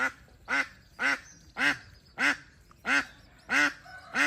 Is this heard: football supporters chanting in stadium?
no